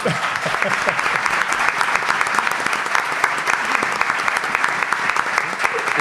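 An audience at a talk about space gives sustained applause for Javier, crisp, dense clapping from many hands that holds steady for several seconds, close and fairly loud.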